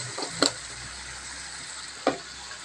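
Spices and food frying steadily in a pan with a soft continuous sizzle, broken by two brief scraping clinks of a spoon stirring, one early and one near the end.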